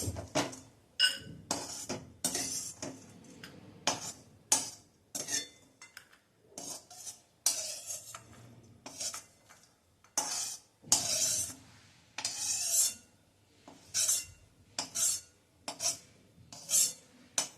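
A spoon scrapes a dry fruit mixture out of a metal pan into a small bowl, giving repeated close clinks and scraping strokes in irregular bursts separated by short pauses.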